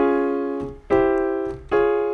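Block chords built on a flat two, played as three sustained, ringing chords struck one after another, clear and close, with no talking.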